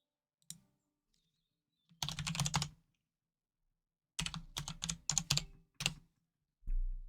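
Bursts of computer-keyboard typing separated by silences: a single click, then a short rapid run of keystrokes, then a longer burst of several quick clusters, all close and fairly quiet.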